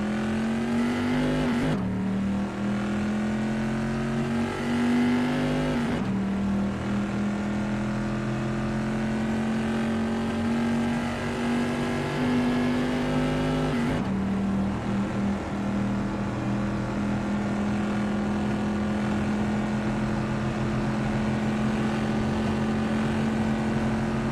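A race car engine in a racing video game roars steadily and loudly, its pitch shifting with a few gear changes, with no voices.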